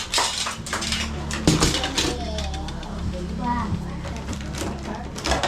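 Metal kitchen dishes, pots and a ladle clatter and clink in irregular bursts close by, while people talk over the handling throughout.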